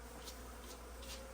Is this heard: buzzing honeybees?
yes